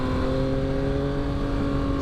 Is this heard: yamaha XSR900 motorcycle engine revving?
yes